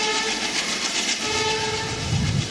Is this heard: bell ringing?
no